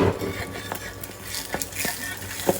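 An omelette of country eggs (pola) fries in a pan, giving a close, moderate sizzle with a few light clinks of a utensil, partly under a voice.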